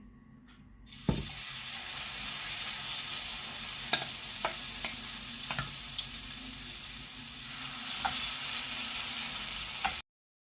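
Cutlets or fritters of aubergine and minced meat sizzle in a pan with a little oil, a steady close hiss broken by occasional sharp clicks and spatters, with no talk.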